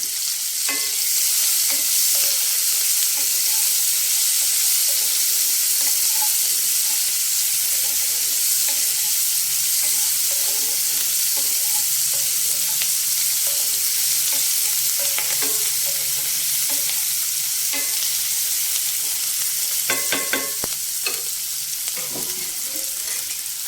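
Onions and curry leaves, with dried red chilies, fry steadily in a pan for a black-eyed pea stir-fry, giving a continuous close sizzle with occasional stirring clicks and scrapes, brief louder clatter near the end.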